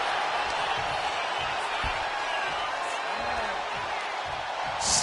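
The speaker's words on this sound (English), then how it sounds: "Look at Steamboat taking in all the energy from the crowd" Arena crowd noise from a WWE 2K25 wrestling match plays as a steady wash of cheering behind a commentator's continuous talk, with a few brief thuds and a sharper burst near the end.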